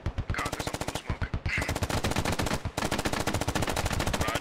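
Gunfire in the video game SquadOps comes as sustained rapid automatic bursts, loud and close, broken by a couple of brief pauses.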